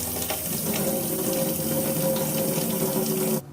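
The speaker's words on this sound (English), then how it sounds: "just wash your garbanzo beans. Give it a good rinse there." Garbanzo beans are rinsed under running tap water in a kitchen sink, a steady close gush of water that cuts off abruptly at the end.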